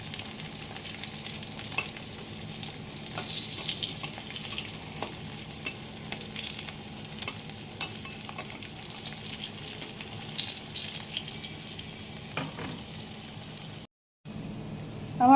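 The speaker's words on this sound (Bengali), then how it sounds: "এভাবে আলুগুলো এখন ভেজে নেব" Potato pieces fry in hot oil for an egg potato curry, a continuous soft sizzle broken by light clicks of a spoon stirring in the pan, with no speech.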